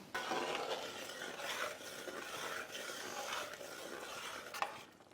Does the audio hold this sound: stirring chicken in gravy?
yes